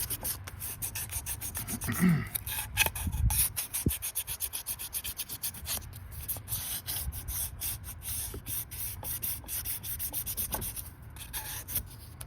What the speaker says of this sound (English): now using a little bit of sandpaper, we're going to go ahead and prep the surface even better